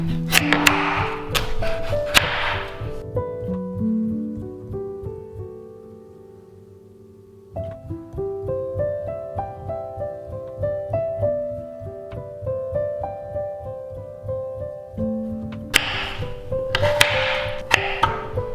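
A knife chopping pumpkin on a board, repeated brisk taps in steady bursts, clear and close, over soft background music.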